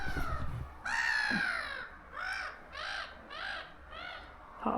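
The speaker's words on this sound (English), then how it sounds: "listening to bird calls" Crows caw repeatedly near a river on a November walk, a series of four or five loud, harsh calls spaced about half a second apart, standing clear over faint background hum.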